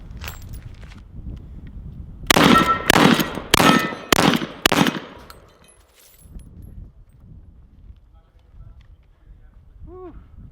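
A Mossberg 590A1 shotgun fires five loud blasts in quick, even succession during break-in shooting, then the range falls quiet apart from low voices talking.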